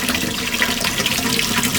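Cold tap water streams steadily over sabudana pearls being rinsed in a kitchen sink, a close, continuous hiss and splash without any talking.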